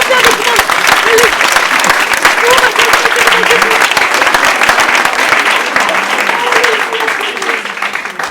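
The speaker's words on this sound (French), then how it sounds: "Allez, on l'applaudit bien fort." A comedy show audience claps loudly and continuously for several seconds, a dense close-up wash of applause with voices talking and calling out underneath.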